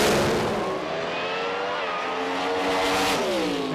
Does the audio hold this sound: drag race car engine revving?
yes